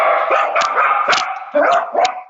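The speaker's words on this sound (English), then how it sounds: "Sorry about the dog." A dog barks loudly and close by, four or five sharp barks in an uneven run, with no talking over them.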